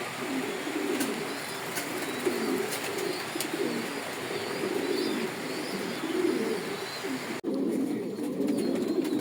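Pigeons cooing in a loft on a rainy day, a continuous low, layered murmur of several birds close by, with a few faint chirps and light rustles and no talk.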